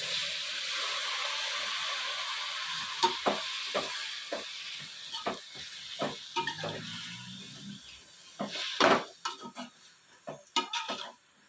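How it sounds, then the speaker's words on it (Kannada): Tamarind juice poured into a hot pan of frying ivy gourd palya, giving a steady low sizzle broken by sharp spoon scrapes and clicks against the pan, loudest toward the end. "ಈಗ ನಾವು ಹುಣಸೆ ರಸ ಹಾಕ್ತಾ ಇದ್ದೀವಿ."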